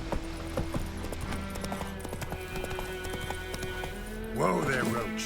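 Geralt's horse Roach in The Witcher 3 gallops with rapid rhythmic hoofbeats, close and clear, and a snort or whinny near the end while a person talks over the game sounds.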